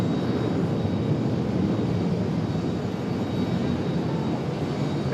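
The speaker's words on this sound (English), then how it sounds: "using up a lot of runway there for that American 737" An American Airlines Boeing 737 jet taking off from a long runway, a steady broad engine roar that holds constant, loud and continuous at a distance with no voices over it.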